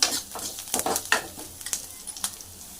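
Onions with coconut and garlic being sautéed for fish curry, a close, faint sizzle broken by repeated scraping stirs of a spoon in the pan, with no voices.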